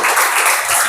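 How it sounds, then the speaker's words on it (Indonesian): Applause from a classroom of students cheering a presenting group, a dense continuous clatter of many hands clapping at steady loudness throughout. "Berikan tepuk tangannya."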